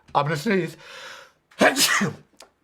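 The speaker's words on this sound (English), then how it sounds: "I'm going to sneeze" A single loud sneeze from a woman with a sharp inhaled build-up, then a short silence before a brief forceful burst and a faint trailing breath.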